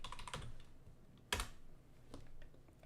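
A web address is typed on a computer keyboard in a few quick, quiet bursts of key clicks, with one sharper, louder keystroke near the middle, in an otherwise still room.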